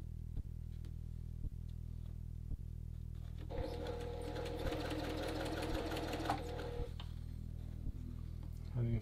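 A sewing machine stitches the collar stand of a men's dress shirt. A steady low motor hum with regular ticks runs throughout, and a burst of faster, louder stitching comes in the middle. The sound is close and carries no speech.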